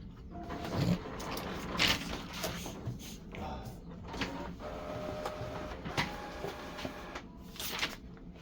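An HP OfficeJet Pro X576dw printer with a clogged printhead running through a cycle, with mechanical whirring, sliding carriage movement and clicks, moderately close, with no talk over it.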